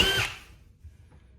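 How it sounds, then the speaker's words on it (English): A DeWalt drywall gun drives a screw into dead wood with one brief, close, high-pitched whirring burst that cuts off quickly and leaves a faint low rumble. "I'll be using my DeWalt drywall gun."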